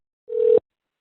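A single short, steady telephone tone sounds on a call to an airline, cutting off abruptly into silence.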